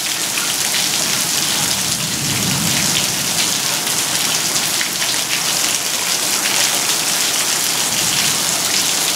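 Heavy rain pours during a thunderstorm in a backyard in Moore, Oklahoma, a loud, dense, unbroken hiss of drops lasting throughout, with a faint low rumble partway in.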